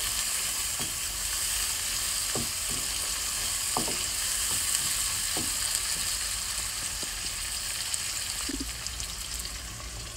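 Spice paste with canned tomato fries in a pan for a prawn curry, giving a steady close hiss and sizzle with scattered soft pops and a few light scrapes throughout.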